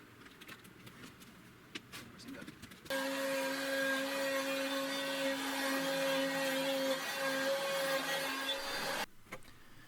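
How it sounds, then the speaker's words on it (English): A PantoRouter woodworking machine cuts deep, narrow mortises with a 1-inch mortise template. A loud, steady router whine with a sustained hum runs for about six seconds, starting abruptly and stopping sharply, with no talk. "go ahead and cut the deeper, narrower mortises now"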